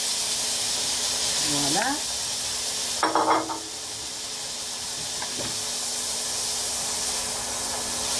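Shrimp dropped into a pan of browned onion and garlic give a steady frying sizzle and hiss throughout, with a brief spoken word and a few light clinks over it.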